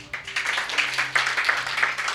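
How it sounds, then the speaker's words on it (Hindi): Church congregation clapping in a worship gathering, a moderate patter of many hands with uneven bursts over about two seconds, slightly distant and somewhat faint. "तालियां बजा दो आप"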